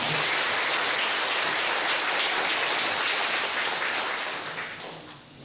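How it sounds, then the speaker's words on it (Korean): Korean Sunday church service congregation giving warm, encouraging applause, a dense and steady roar of many hands that tapers off toward the end. "박수 한번 격려해 주시면 감사드리겠습니다."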